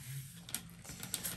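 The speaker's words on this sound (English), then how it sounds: "I'm gonna do one more shuffle, because" Tarot cards being shuffled by hand: a quiet, close papery riffling with a couple of brighter snaps as the deck comes together, and no talking.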